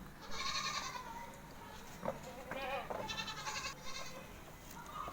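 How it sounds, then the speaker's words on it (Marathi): Several goats and young goat kids on a Konkan goat farm bleat in overlapping, wavering calls, loud and close, with a brief thump midway and a quiet outdoor background. "या शेळ्या बघा, शेळ्यांची पिल्लं."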